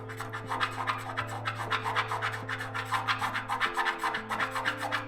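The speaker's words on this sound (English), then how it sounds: "I'm just kind of lightly rubbing it back and forth across this area." A de-nibbing tool rubs lightly back and forth over fresh car paint on a CJ-5, producing soft, rhythmic rasping strokes in quick steady succession over a low steady hum.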